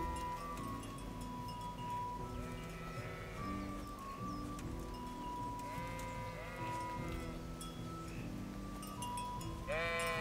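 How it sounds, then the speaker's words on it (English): Repeated sheep bleats from the video game Kingdom Come: Deliverance ring out over a dense, busy background, several calls overlapping at a moderate distance. "Run, sheep, run!"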